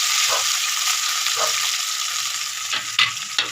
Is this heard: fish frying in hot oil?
yes